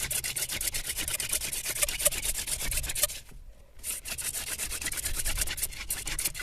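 A wooden friction-fire spindle spins and rubs against wood in fast, rhythmic scraping strokes, close and steady, breaking off briefly midway before resuming, the motion not running smoothly.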